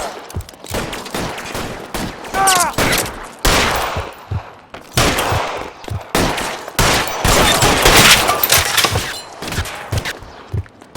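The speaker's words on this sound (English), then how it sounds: "I'll lay down some suppression fire" Suppression gunfire in the video game L.A. Noire, with repeated loud bursts of automatic and single shots that crack in uneven clusters and then drop into short gaps, close and dominant with no talking.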